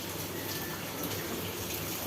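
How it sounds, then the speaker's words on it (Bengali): Tap water running steadily into a jug, a soft, even rushing hiss heard at low level without pause. "আর এই দিক দিয়ে কলে ঝক ভরে পানি ভরতেছি।"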